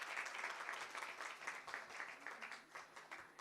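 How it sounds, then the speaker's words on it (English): Audience applause at an indoor Women Power live event at India Habitat Centre in New Delhi, a steady, quiet wash of many hands clapping throughout, heard from a distance with no talking over it. "please keep on applauding"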